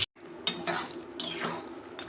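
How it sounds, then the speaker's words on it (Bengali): A metal bowl that held mutton is rinsed and topped up with a little water, bringing sharp clinks of metal and splashing, trickling water in short bursts. "মাংসের বাটিটা ধুয়ে অল্প জল দিয়ে দিচ্ছি।"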